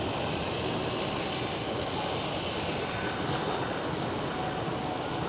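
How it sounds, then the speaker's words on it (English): A China Southern Cargo Boeing 777 passing at Amsterdam Schiphol, a loud, steady broadband jet engine roar that holds continuously without voices. "There goes the China Southern Cargo"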